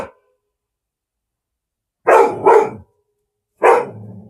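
A dog lets out a sharp bark, then two quick barks in a row, then one more, loud and close, with silence between the bursts.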